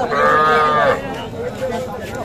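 A loud, close moo from a young bull or calf at a busy calf market opens the moment, followed by crowd murmur.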